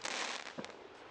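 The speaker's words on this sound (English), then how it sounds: "there are fireworks behind me." Fireworks go off in the distance on a July night in Indiana, giving a brief crackling burst and a dull pop against a faint outdoor hiss.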